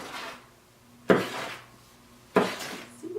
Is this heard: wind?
no